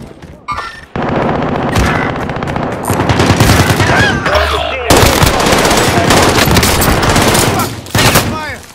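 Sustained machine gun fire from the Call of Duty video game, dense rapid bursts rattling almost continuously and loud throughout, with heavy gunfire and booms layered over a brief quieter opening.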